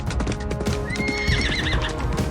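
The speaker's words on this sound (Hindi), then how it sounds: "राजकुमार सूर्यदेव अपने घोड़े को तेज गति में भगाता है।" Prince Suryadev's horse Chandra gallops hard with rapid, loud clip-clop hoofbeats, while a horse neighs and whinnies over the pounding rhythm.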